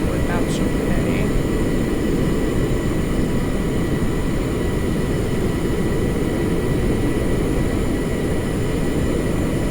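A steady, loud engine roar holds at a constant level throughout as an airplane takes off down the runway in Kerbal Space Program.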